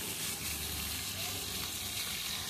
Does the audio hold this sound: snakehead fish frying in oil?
yes